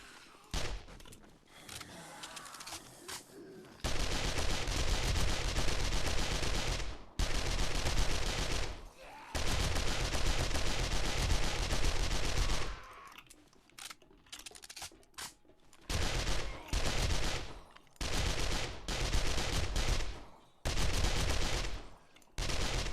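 Loud automatic SMG bursts ring out in 7 Days to Die while clearing a zombie-infested area in singleplayer, long sustained strings of rapid shots broken by brief pauses and short clipped volleys.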